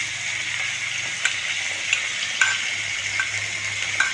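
Sauce paste thinned with water hits a hot pan for chilli chicken, giving a steady, close sizzle with faint clicks of utensils and no talking.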